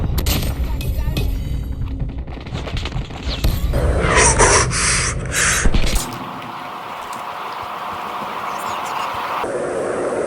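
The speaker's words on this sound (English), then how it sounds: "Someone's shooting at me." Shooting-game gunfire mixed into a dense, loud game soundscape, with a cluster of sharp bursts partway through and steady ambient noise afterward; no clear speech.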